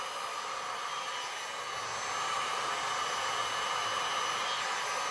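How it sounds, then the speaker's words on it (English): Heat gun blowing steadily across poured resin ocean waves on a board, a continuous airy roar that holds even and slightly strengthens midway, with no talking. "Don't get too close and keep moving the heat gun"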